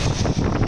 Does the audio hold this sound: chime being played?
no